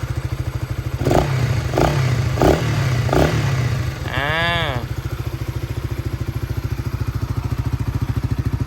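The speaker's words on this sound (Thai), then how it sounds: "เดี๋ยวบิดคันเร่งให้ดูหน่อย" A Honda Sonic motorcycle idles with a steady close putter, its throttle twisted in four quick blips that rise and fall, followed by one longer rev, then settles back to idle.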